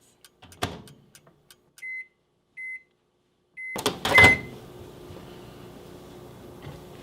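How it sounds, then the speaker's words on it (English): A microwave oven heating a keto German chocolate mug cake, with a few sharp beeps and door clicks, then a loud clunk as it starts and a steady low hum running on, close by. "I am going to place it back into the microwave for another 1 minute and 15 seconds this time."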